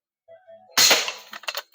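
A slingshot gun fires with a sudden loud snap, followed by a few quick clicking ticks as the shot strikes and rattles on the target, close and crisp after a faint lead-in.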